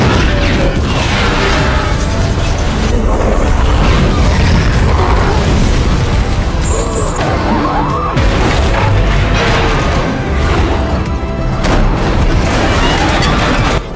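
A massive explosion in a Planet of the Apes film scene, with dense booming, crashing wreckage and mechanical rumble, loud and sustained for the whole stretch.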